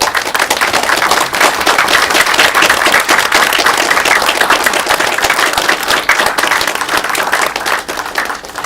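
Sustained applause fills a presentation room as alumni of a university portfolio program stand, dense steady clapping from a crowd at close range with no break.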